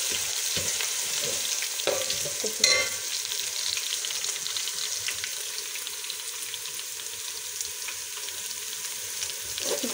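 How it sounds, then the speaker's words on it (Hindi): Ginger and garlic paste frying lightly in a pot for chicken yakhni pulao, giving a steady, close sizzle throughout with one brief louder crackle near the start and no voices. "वो हल्का सा फ्राई करेंगे।"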